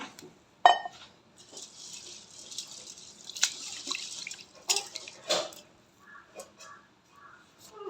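Water poured over raw rice in a bowl before soaking, heard as a sharp splash followed by trickling, dripping and a few clinks of the vessel, close and moderately loud with quiet gaps between bursts.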